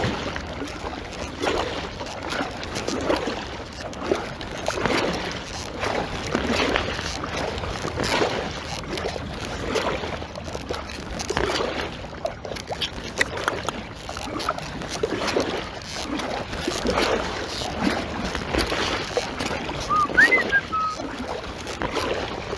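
Paddle strokes on a lake from a small boat, with soft rhythmic water swishes repeating every second or two over steady wind and open-air background, fairly close and continuous.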